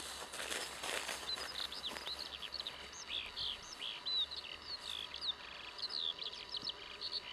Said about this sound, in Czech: Ten ptáček se asi trochu lekne.